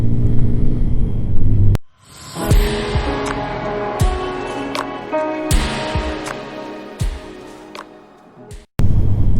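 A Sinnis Apache SM 125 motorcycle rides through sweeping corners and a roundabout, its engine droning steadily as the revs rise and fall, with loud wind rush and a couple of abrupt breaks in the sound.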